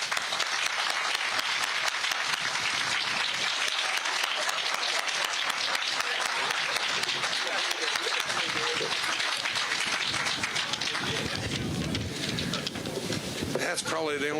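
Officials and judges are applauded at a courthouse annex ribbon cutting, where a crowd's clapping forms a continuous dense wash throughout, with murmured voices and some crowd noise mixed in, fairly soft overall.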